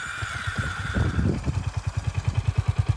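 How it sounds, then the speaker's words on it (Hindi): A Royal Enfield Meteor 350 motorcycle idles close by, its exhaust giving a steady, rhythmic low thumping pulse after a brief rev near the start. "ये इसका आइडल का एग्जॉस्ट साउंड"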